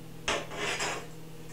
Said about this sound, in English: And this is how I tear down my paper. Now I have a tear bar here.